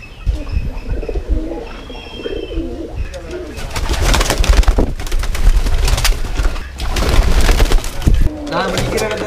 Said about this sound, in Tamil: அடுத்ததான் நாங்கள் புறா பார்ப்போம்.